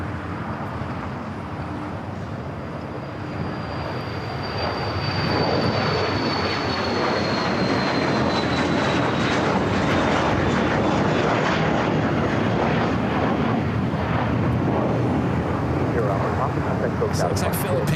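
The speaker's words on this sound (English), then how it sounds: "So looks like Philippine, flight 113, the flight heading back to Manila." A Philippine Airlines airliner, flight 113 at LAX, roars with rising engine noise and a descending whine, swelling louder midway and holding; people talk at times over it.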